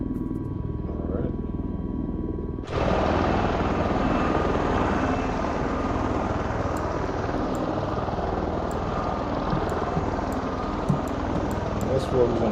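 Simulated V-22 Osprey tiltrotor rotors in Microsoft Flight Simulator 2024, a steady dense rotor and engine roar that surges louder after a quieter start and holds close and constant through the approach to a helipad.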